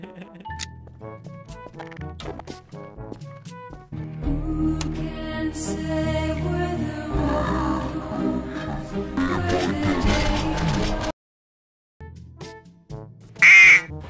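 A cartoonish duck quack from a soundboard in Garry's Mod DarkRP plays amid loud, busy background music, with a short sharp quack cutting in near the end after a brief silence.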